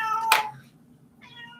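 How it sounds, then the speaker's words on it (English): A pet cat lets out a loud, close meow, then a second, shorter and softer meow follows after a brief pause, with no talking. "There's my son's cat, Dio."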